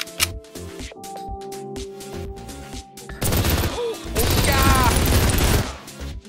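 Rapid bursts of gunfire in the game Mini World erupt partway through, loud and continuous automatic fire layered with game effects and music.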